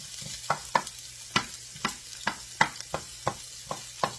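Chopped shallot frying in bacon grease in a pan for Thai drunken noodles, a soft steady sizzle punctuated by about a dozen regular utensil taps and stirs, close and quiet with no talking.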